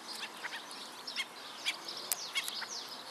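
Scattered calls and chirps of migratory birds at Lindell Lake over a soft outdoor background, distant and faint, including a few duck-like quacks.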